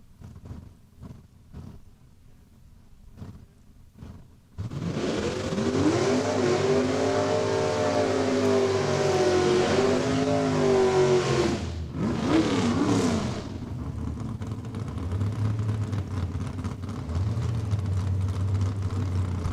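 Drag race final between Mustangs, including a red 1991 Mustang, at Saskatchewan International Raceway: a few faint clicks, then a loud roaring engine launch rising and falling in pitch for about eight seconds before fading into a steady rumble.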